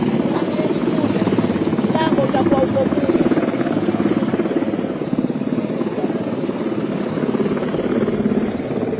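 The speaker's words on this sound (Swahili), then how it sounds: "tayari helikopta hiyo imeshashuka katika ardhi ya kiserikali" A helicopter landing on government ground at Kizimkazi Dimbani in Zanzibar produces a loud, steady rotor and turbine roar that fills the whole stretch, with someone talking over it.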